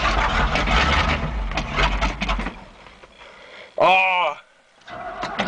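A Chevy K20 truck engine cranks and catches, rumbling loudly for a few seconds before dying back, followed by a short high squealing whine and a brief lull; a man exclaims over it.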